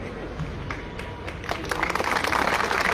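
An audience applauds at a railway union leader's speech. Steady crowd noise and voices come first, then dense clapping swells midway and stays loud to the end, mixed with talk.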